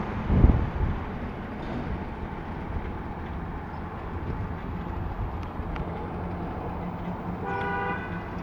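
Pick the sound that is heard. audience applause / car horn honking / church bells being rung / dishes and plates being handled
car horn honking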